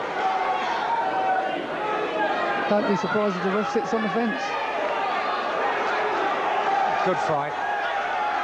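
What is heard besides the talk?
boxing crowd cheering and roaring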